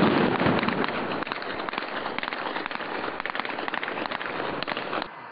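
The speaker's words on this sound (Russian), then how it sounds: "Эти взрывы и стрельба по учебной команде." Explosions and gunfire during a police hostage-rescue training drill in Chechnya, heard as a dense crackle of rapid pops and bangs from some distance, continuous and roughly even in loudness throughout.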